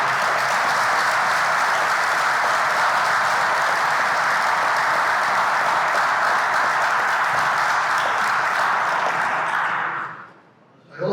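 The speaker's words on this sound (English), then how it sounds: "she deserves another round of applause" At a USS Boston reunion gathering, an audience gives a long, dense, even round of applause that fills the room for about ten seconds, then cuts off abruptly into near silence.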